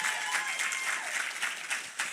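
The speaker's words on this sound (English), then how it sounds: "You can clap." An audience claps warmly during an interview event, a brisk moderate patter of many hands with small swells.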